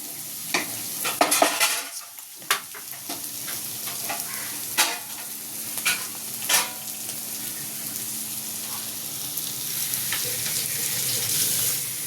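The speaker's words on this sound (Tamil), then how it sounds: "இப்போ இது வந்து கொஞ்சம் நேரம் இதே லோ ஃப்ளேமில் கொஞ்சம் குக்காக விடணும்." Goat intestine (boti) frying over a low flame in a pan, a steady soft sizzle running throughout with a few sharp clinks of a utensil stirring and scraping near the start.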